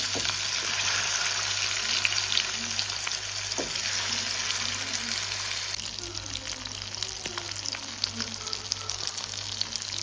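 Fish frying in a pan makes a constant crackling sizzle close up, with a low steady hum beneath and a few light clinks from the kitchen.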